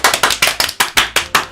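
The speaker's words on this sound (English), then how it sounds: "The four of us applaud." Applause sound effect in the video game Doki Doki Literature Club, a short burst of about eight crisp, evenly spaced claps, close and loud, with no talking.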